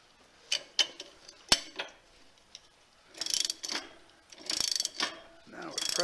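A worm gear is pressed onto a Model A steering shaft, producing a series of sharp metallic clicks and knocks, followed by bursts of grinding and scraping, close and fairly quiet.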